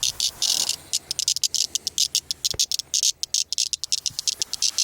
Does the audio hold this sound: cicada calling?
yes